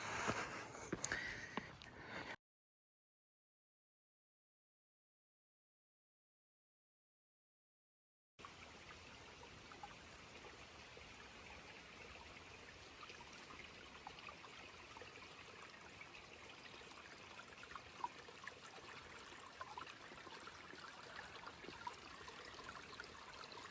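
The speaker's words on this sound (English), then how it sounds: "I stopped to filter water. Really nice looking stream." A mountain stream on the Appalachian Trail flows steadily with a constant watery rush and trickle, close and even throughout, with a brief gap of silence early on.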